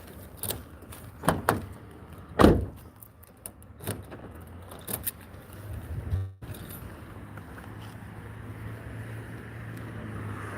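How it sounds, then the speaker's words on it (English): Car door locks clunk shut from inside a vehicle on a drive, a few sharp knocks and clicks over a steady low cabin and engine rumble, with no talking. "Better lock my doors."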